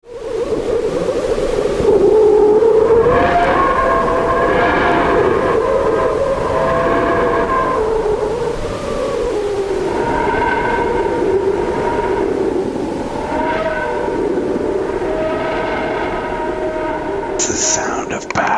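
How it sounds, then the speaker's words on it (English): NASA sonification of the sun, a loud, sustained rumbling roar with wavering tonal whines that rise and fall in slow, repeating swells over nearly twenty seconds. "NASA shares deafening screams of the sun."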